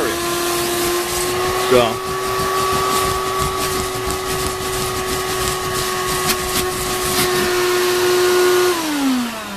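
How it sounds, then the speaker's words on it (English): A 6.5 horsepower shop vacuum runs steadily over carpet with a loud, even motor whine and rushing airflow, its pitch briefly shifting and then dropping at the end, while someone speaks over it. "The first thing you want to do is vacuum the area."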